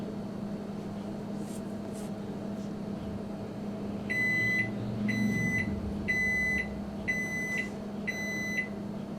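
A Magic Chef HMM1611B2 microwave hums steadily through a 15-second timer, then a run of five evenly spaced high beeps sounds close and clear over the running drone.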